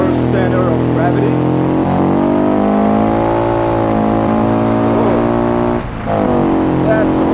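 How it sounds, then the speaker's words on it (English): A car with a boxer engine revs hard at the WOSSOM Land Speed Challenge, a loud, sustained, climbing engine note that holds high RPM with only a brief dip near the end. "That's the beautiful sound of a boxer engine."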